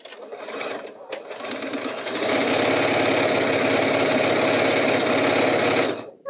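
A sewing machine used for demos at a quilting sew-along runs in a steady, loud whirring burst for about four seconds after a few brief starts, then stops.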